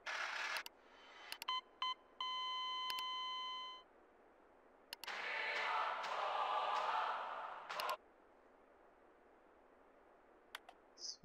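Phone dialing beeps in Grand Theft Auto 4: a quick run of several steady electronic keypad tones, fairly faint, followed by a broader burst of in-game noise, with no talk.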